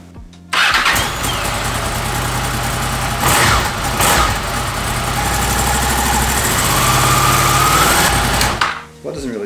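Honda VFR800 motorcycle engine, stone cold after fuel injector cleaning, cranks and catches, then idles loudly and roughly for several seconds before cutting off, with a brief voice near the start.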